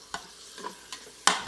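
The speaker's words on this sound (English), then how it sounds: "can you hear that sizzle? We are starting to saute the beef." Beef sizzling as it sautés in a pressure cooker, soft frying hiss punctuated by a few brief stirring clicks and scrapes, close and fairly quiet.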